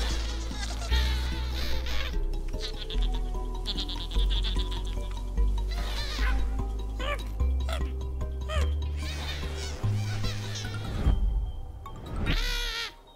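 Sheep in the flight game Flock give repeated bleats alongside bright, cheerful game music, several calls spread across the stretch with a louder burst near the end.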